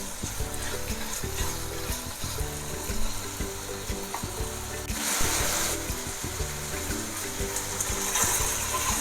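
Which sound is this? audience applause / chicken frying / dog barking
chicken frying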